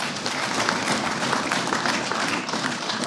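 An audience claps during a political speech by a former Indian union minister, a dense, continuous round of applause heard alone, with no voices over it.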